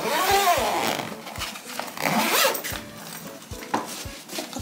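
A zipper on a travel bag with zippers on both sides is pulled open in several quick rasping strokes, close and clear, with short pauses between pulls.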